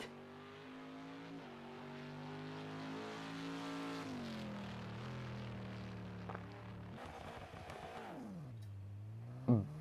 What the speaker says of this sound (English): it's got a good engine sound from that V8